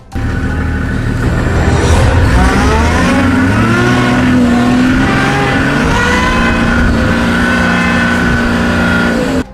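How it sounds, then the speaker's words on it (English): A safari vehicle floors it in reverse to escape a charging elephant, its engine revving loud and close, the pitch climbing and straining steadily for several seconds before dropping away at the end. "He floors it in reverse and gets away from the animal."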